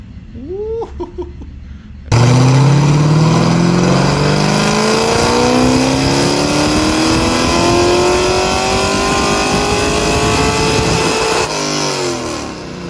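A Mustang with a swapped engine revving hard on a dyno, climbing steadily in pitch through the gears for about nine seconds, loud and close, after a brief burst of voices and laughter.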